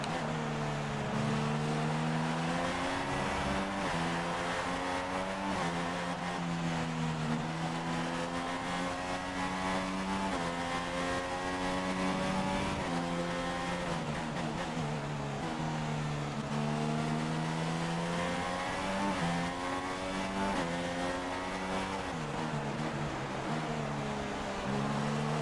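Formula 1 race car engines in the F1 2016 video game scream steadily throughout, pitch rising and falling as cars run in slipstream and pass a Honda, loud and continuous with no talk.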